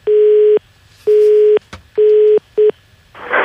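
A telephone busy tone sounds after a call is hung up: four loud, steady beeps with short gaps, the last one clipped, followed by a brief burst of noise.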